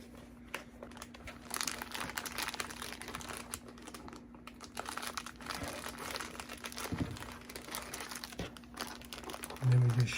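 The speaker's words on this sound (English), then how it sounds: "I have a baggie." A plastic baggie crinkling and rustling in a leathercrafting workshop, irregular crackly handling sounds over several seconds with a steady low electrical hum underneath.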